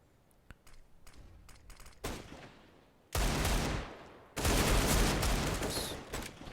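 Gunfire during an esports video game match, starting with scattered single shots, then building into long loud sustained bursts of rapid fire with short gaps; no talk.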